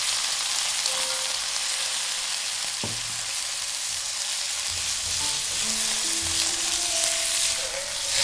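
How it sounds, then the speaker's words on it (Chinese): Pork and soaked shiitake mushrooms stir-fry in a pan with a steady, close sizzle of hot oil throughout, broken by occasional soft knocks and scrapes of a spatula. "不停地翻动，保证肉质的表面发白，油脂部分溢出。"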